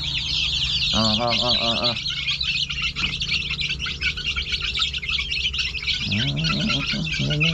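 Several chickens cluck in short bursts over a dense background of chirping birds, the clucks coming in two clusters at the start and end.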